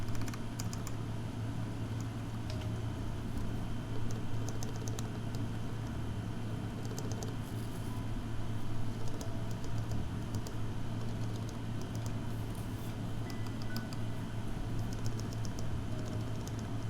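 A custom IRON165 mechanical keyboard is tested by typing: faint, rapid key clacks sit above a steady, loud background hum throughout.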